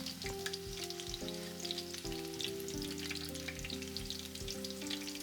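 Kakiage mixed vegetable tempura frying in oil at around 150 degrees, a steady soft crackle and sizzle throughout with faint background tones.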